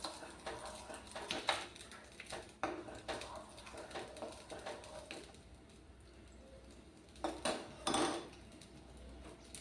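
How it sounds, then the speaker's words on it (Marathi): A spoon stirs and scrapes a sugar mixture for khaman dhokla inside a metal pot, with irregular clinks and louder bursts of scraping near the start and end. No voices. "साखर घालून झाली की पुन्हा एकदा हे मिश्रण चांगलं ढवळून घेऊया"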